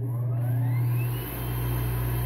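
A small radial blower compressor motor runs steadily with a loud, close whirring drone and a strong low hum, holding constant apart from a slight dip partway through, with no talking.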